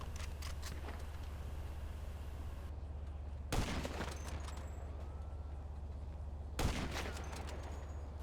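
Enemy gunfire in the GTA 5 Online Lost MC RIP mission: a steady crackle of distant shots under a constant low rumble, with two sharper bursts standing out near the middle and end.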